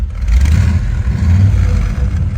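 A 1969 Chevrolet Corvette engine runs close by with a deep, rumbling idle that swells into a couple of throaty revs, with some mechanical clatter underneath; no voices.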